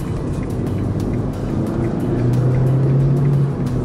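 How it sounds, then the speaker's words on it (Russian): A 2015 KIA Rio rolls steadily over an uneven, bumpy road, its engine and tyre rumble a continuous loud drone with a faint tonal whine rising near the end, no voices. "плотно едет машина по всем вот этим неровностям"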